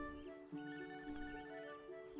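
Phone ringing during an idle animation in the video game Yooka-Laylee: a steady electronic ringtone with sustained tones and faint chiming accents over game background sound, fairly quiet and continuous.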